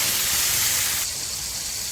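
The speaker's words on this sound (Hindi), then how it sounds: "अब इसी के अंदर हम डाल देते हैं जो हमने टमाटर को पीस के रखा था उसे," Ground tomato paste poured into golden-brown frying onions for matar chhole, giving a loud steady hissing sizzle that drops slightly in intensity partway through, with no talking.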